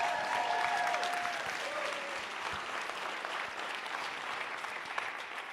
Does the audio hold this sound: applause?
yes